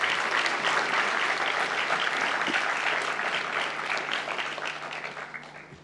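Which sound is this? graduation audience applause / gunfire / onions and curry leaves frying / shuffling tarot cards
graduation audience applause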